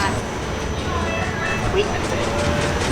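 A train rolls in with a steady rumbling rattle and a faint clickety-clack beneath a busy, noisy ambience, with someone talking over it.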